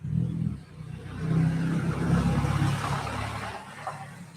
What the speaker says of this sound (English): it's a lorry coming by now.